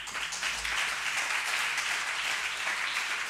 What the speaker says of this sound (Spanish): Otro aplauso, venga.